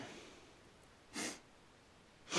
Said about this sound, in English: I've got a sniffle.